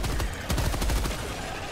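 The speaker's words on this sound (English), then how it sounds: "This machine gun is super awesome as well." A machine gun in Helldivers 2 rattles off a quick burst of closely spaced shots, loud and near, trailing off after about a second.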